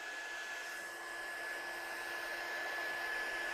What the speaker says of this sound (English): I'm just going to heat set this one here.